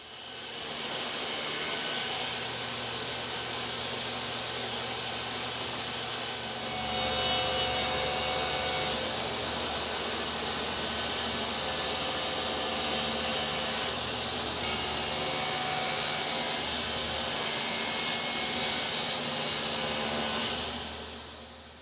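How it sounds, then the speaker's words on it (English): A table saw rips the edges of a solid wood board straight during box-joint box making, a loud sustained whine with the pitch dipping slightly as the blade bites, running steadily for about twenty seconds. "I need to cut the edges straight, and I'm going to be using my table saw for that"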